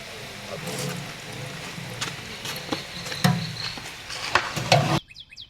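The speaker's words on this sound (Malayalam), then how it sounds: "കട്ടിയൊക്കെ ചൂടായി എണ്ണ ഒഴിച്ച് നമുക്കിനി കുറച്ച് ഈ ഉള്ളി വറുത്തെടുക്കാം" Sliced onions frying in hot oil in a pan for Kerala-style Malabar chicken biryani, a continuous sizzle with scattered pops and spatula scrapes, close, and a voice speaking over it before it cuts off abruptly near the end.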